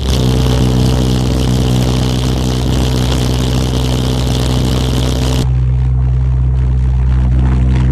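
Homemade jet engine firing up on liquid propane in a garage setting, a loud, steady, continuous roar with a strong low rumble and broad hiss that holds throughout, then abruptly drops to a quieter idle-like drone near the end.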